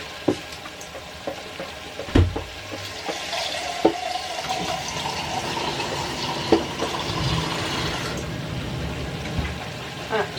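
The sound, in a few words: water poured into a cooking pot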